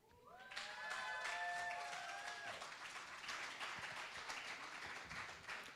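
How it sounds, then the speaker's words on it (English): Audience applause fills the room after a spoken-word poetry performance at a cultural showcase, starting sharply and holding steady as a dense, loud wash of clapping with faint cheering on top. "Another round of applause for that amazing piece."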